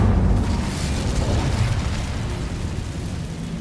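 An Incendio fire spell is cast in Hogwarts Legacy, a dense, roaring burst of flame and rumble that holds steady for several seconds and tapers slightly toward the end.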